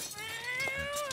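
Cat meowing in the South Park: The Fractured But Whole video game: a single short, bright, slightly wavering meow heard fairly close, without talk.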